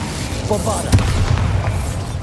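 A Bombarda explosion spell in Hogwarts Legacy goes off as one sudden booming burst, surrounded by a dense rumble of ongoing combat noise.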